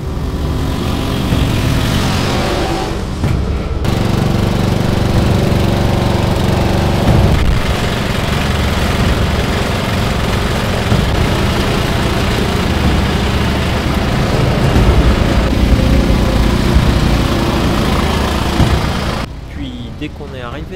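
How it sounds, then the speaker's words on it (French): Tractor engine running while driving home at night on a farm, a loud, steady mechanical drone that continues for the whole stretch with voices heard faintly over it. "Le tracteur de Mathilde, il a jamais voulu allumer les halogènes."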